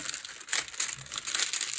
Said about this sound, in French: Je vais juste replacer un peu le papier pour la mettre plus droite.